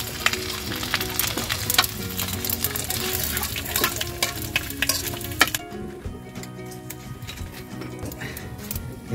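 Janitor fish crackers deep fry in oil with a dense, crackling sizzle full of sharp pops, loud and close at first, then settling into a quieter, steadier bubbling.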